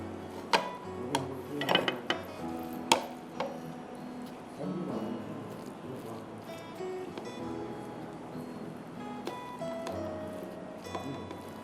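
Ingredients are mixed in a bowl with a utensil, giving a few sharp clinks and knocks early on, then softer, continuous scraping and rubbing at low volume, close by.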